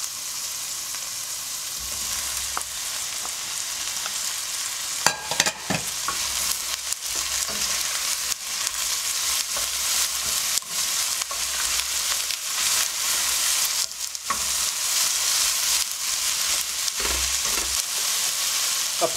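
Carrots and bell peppers sauté in a frying pan with a steady, close hiss and crackle, stirred now and then with scraping knocks, continuing for the whole stretch with no talking.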